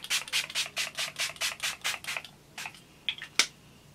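A rapid series of about a dozen sharp, hissy bursts of makeup setting spray onto a face close to the mic, evenly spaced, followed by a few scattered louder spritzes.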